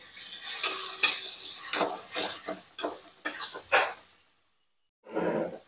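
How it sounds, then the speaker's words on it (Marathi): Onion with salt being sautéed in a pan over a high flame, a string of spoon scrapes and clinks against the pan over a faint sizzle, then a short silence and one more soft stirring rustle. "कांदा परतून घ्यायचा. मीठ टाकलं म्हणजे कांदा लवकर परतून होईल."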